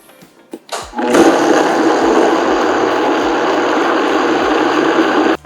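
A kitchen blender puréeing parsnips with garlic: a few short taps and pulses, then the motor roars up to a steady, loud, close whir that holds for several seconds before cutting off abruptly.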